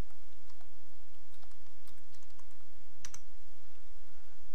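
Web address being typed on a computer keyboard, a quiet run of irregular key clicks with a couple of sharper taps near the end, close and alone.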